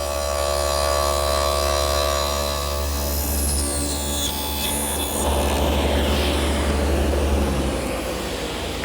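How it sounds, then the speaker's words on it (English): A table saw fitted with a dado blade, set 3/4 inch wide and 1/4 inch high, cuts tenons on a hall seat stile, a loud sustained motor whine that roughens into a harsher cutting roar midway. "set the dado for 3/4 of an inch width and a 1/4 inch height. I'll just run them through."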